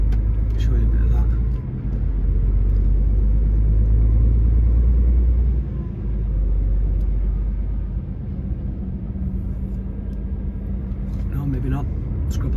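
A truck rumbles through a small French village, a heavy low engine drone swelling and easing steadily, with people talking over it inside the cab.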